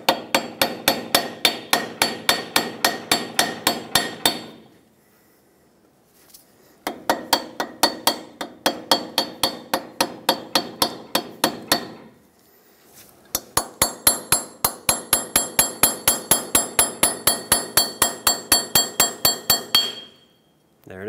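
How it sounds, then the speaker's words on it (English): Steady, sharp metallic hammer blows strike a chisel wedged under the hub cap of a 1996-2002 Toyota 4Runner front hub, coming in three long rhythmic runs separated by brief pauses, loud and close. "you want to get in this lip here, try to separate the cap from the hub"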